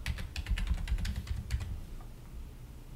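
Fingers type a username and password on a computer keyboard, giving quick close-up clicky keystrokes in uneven bursts that thin out toward the end.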